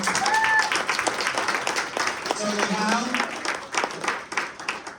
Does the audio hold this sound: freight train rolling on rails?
no